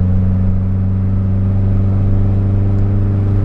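Car engine on a standalone ECU held at wide open throttle at low RPM under boost, a steady loud droning rumble with strong even harmonics, close and unbroken, no voices.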